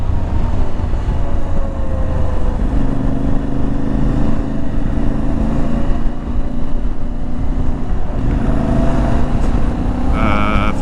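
An IBEX 450 motorcycle ridden at about 4,000 RPM in fifth gear, giving a steady, droning engine note mixed with wind rush, constant and close throughout.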